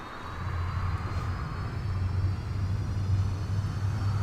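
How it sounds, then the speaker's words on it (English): Aircraft auxiliary power unit in Microsoft Flight Simulator spooling up, heard from outside as a steady low hum with a faint high whine above, holding a constant level throughout. "We'll listen to the APU spooling up."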